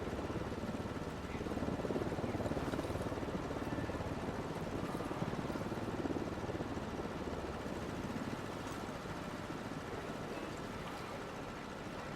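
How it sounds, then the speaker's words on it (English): An enemy helicopter in the Ghost Recon Wildlands video game drones steadily overhead, a dense, continuous rotor roar that holds at a fairly even level throughout. "Unidad chopper, stay low."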